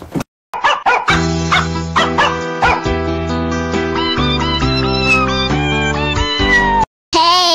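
A cat meows loudly and repeatedly indoors at home, its drawn-out calls rising and falling over a dense, steady tonal backdrop, with a few dog-like yips mixed in before a brief cut-off near the end.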